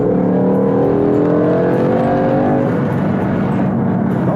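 A BMW M5 engine pulls hard under heavy throttle, a loud, steady, close roar with rising engine tones and no pauses.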